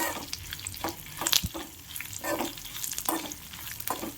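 Garlic and urad dal frying in a pan for a spicy Kannada saaru, soft sizzling broken by intermittent scraping stirs every second or so, close and moderately quiet.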